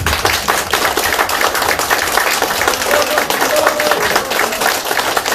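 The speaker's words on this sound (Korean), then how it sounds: "격려에 고생했다는 박수 한번" Loud, close applause from a crowd at a political party training session fills the room as sharp, rapid hand claps run continuously throughout.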